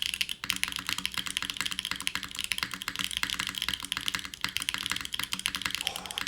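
Keys on a custom-built mechanical keyboard clatter in a fast, dense stream of sharp, close clicks, including the deeper thock of spacebar presses, with no voices.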